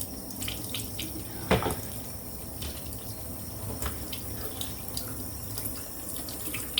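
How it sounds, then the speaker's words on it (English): Tap water runs steadily into a kitchen sink over peeled apples, a continuous close splashing hiss with small drips and clinks from handling the fruit, and no voices. "let's put them under water because after they've been peeled"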